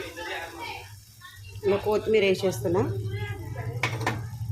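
Coriander being stirred into a tomato and fenugreek curry in a pan: a spoon scrapes and clinks against the metal pan under Telugu speech, with a soft sizzle and background noise.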